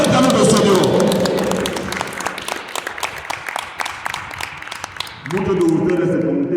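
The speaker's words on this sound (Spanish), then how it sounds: "Un aplauso fuerte al nombre del Señor" A church congregation in Celaya, Mexico breaks into sharp, rapid applause that fades after a few seconds, with a preacher's voice heard before and after the clapping.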